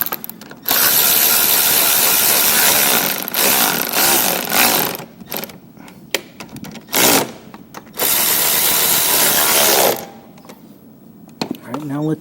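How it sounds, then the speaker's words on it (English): A ratchet tightens a bolt on a Honda Lawnboy lawn mower, giving loud, close mechanical clicking and grinding in long stretches broken by short pauses and bumps. "Where's my ratchet? Gotta tighten this mother down."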